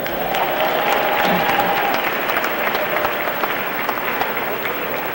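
An audience at a community gathering breaks into sustained applause, a dense, even clatter of many hands that holds for around five seconds, with faint crowd murmur underneath.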